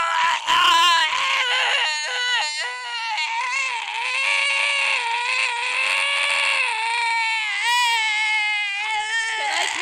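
A person's voice imitates a long, shrill scream of sheer pain and terror, loud and sustained for nearly ten seconds, wavering and breaking in pitch with no other sound behind it.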